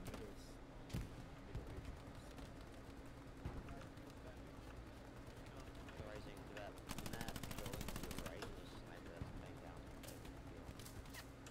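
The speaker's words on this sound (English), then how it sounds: "They got a machine gun as well." Machine gun fire in the Hell Let Loose video game, bursts of rapid automatic shots with a dense sustained burst near the middle, over constant battlefield noise.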